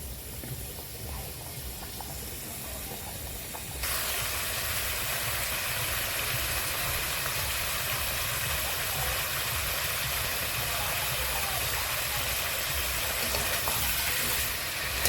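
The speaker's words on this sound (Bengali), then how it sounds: "এইভাবে আমি 5 মিনিট ভালো করে নেড়ে চেড়ে ভেজে নেব" Cucumber and prawns fry in a wok with a continuous close hiss and sizzle, growing slightly louder after a few seconds and staying steady, with no voices.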